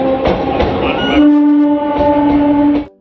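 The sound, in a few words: Sealdah–Namkhana local train departing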